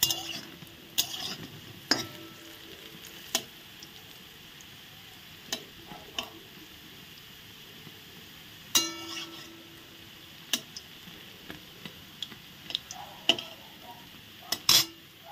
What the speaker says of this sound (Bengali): ডালের বড়াগুলো এগুলো ভাজা হয়ে গেছে, এখন তুলে নিচ্ছি